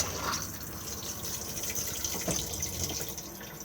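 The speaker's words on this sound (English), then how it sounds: "push to flush just up here" A Thetford cassette toilet in an Elddis Majestic 194 caravan flushes with a steady, fairly quiet rush of running water into the bowl, continuous for a few seconds.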